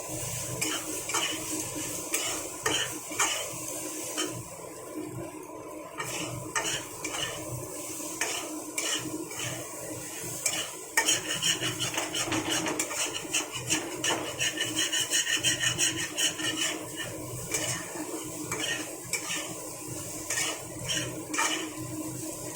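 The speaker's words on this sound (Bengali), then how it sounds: "দিয়ে এবার এটাকে খুব সুন্দর করে নাড়াচাড়া করে ভেজে নেব।" Egg being stir-fried in a pan with a spatula, continuous scraping and rubbing strokes with light clinks against the pan, close and alone.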